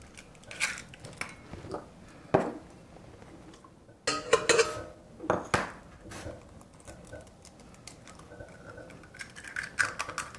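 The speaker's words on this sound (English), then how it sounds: "I'm looking for my bowl here, so I'm going to crack 2 eggs in there." Two eggs cracked into a bowl, with sharp shell taps and cracks in separate bursts, light clinks of shell against the bowl and soft handling noises between them, close and fairly quiet.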